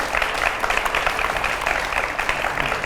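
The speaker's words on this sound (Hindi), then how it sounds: "मैं चाहूंगा जरा जोरदार तालियां हो" Steady, loud audience applause at a televised event with dense clapping that runs unbroken throughout.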